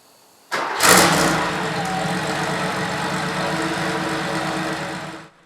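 A Porsche 911/930 flat-six catches abruptly after a fuel accumulator and filter repair, a sharp starter-and-fire burst settling into a steady, even idle close by, with no voices.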